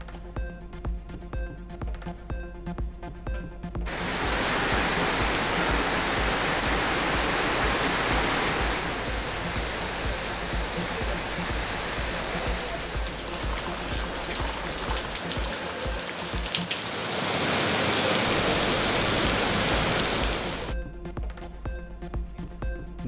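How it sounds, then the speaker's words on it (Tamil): Heavy rain pours down in Kanyakumari district, a dense, loud, steady roar of drops that swells in after a quieter start and eases off near the end. "கன்னியாகுமரி மாவட்டத்தில் கோடை வெயிலுக்கு இதமாக கொட்டி தீர்த்த கனமழை"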